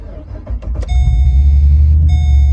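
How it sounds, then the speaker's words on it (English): A 2009 Pontiac G8 GT with true dual exhaust cranks briefly and fires up, then settles into a deep, steady, pulsing rumble close by. "That is the true dual exhaust, and it is really pulsing."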